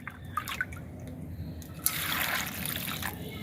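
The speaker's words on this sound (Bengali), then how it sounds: "কচুটা সুন্দর করে পানি দিয়ে ধুয়ে নিব।" Taro root being rinsed under water, a soft steady trickle and splash that swells louder in the second half, with faint dripping throughout and no talk.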